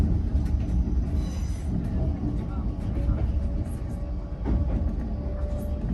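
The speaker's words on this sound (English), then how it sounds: "Hello, and welcome on board this LNER Azuma to London King's Cross." Inside an LNER Azuma train bound for London King's Cross, a steady low rumble of wheels and carriage noise continues throughout with brief squeals and clatters. An onboard announcement voice is heard over the rumble.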